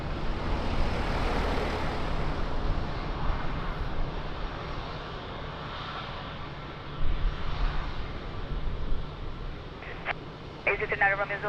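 Aircraft engine rumbling steadily on the takeoff roll from runway 02 at Lisbon Airport, heard at a distance, with talk and a brief beeping tone near the end.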